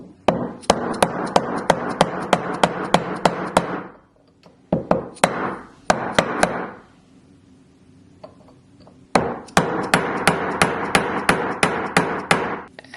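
Rapid metallic hammer taps on a bezel punch against thick silver in quick bursts, several fast runs of strikes separated by brief pauses, close and loud.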